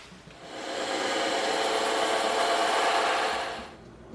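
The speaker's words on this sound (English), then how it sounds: "now we're gonna make those 2 cuts on the bandsaw" A bandsaw cuts through EVA foam for a Megaman sword prop, giving a steady, close, loud whirring rasp that swells up, holds evenly for about three seconds and then tails off, with no talking.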